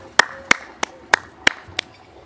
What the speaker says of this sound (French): on entend les gens qui applaudissent.